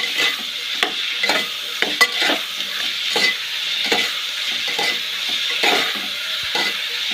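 Onions sizzle steadily in a pan, frying toward a reddish brown, with repeated scraping stir strokes at an uneven rhythm, close and moderately loud, no voices.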